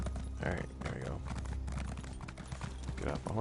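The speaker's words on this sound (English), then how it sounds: "Get off my horse." Horse hooves clip-clop in a steady rhythm in a video game, mixed with game sounds and brief vocal noises from a character.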